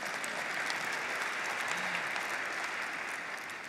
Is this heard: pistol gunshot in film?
no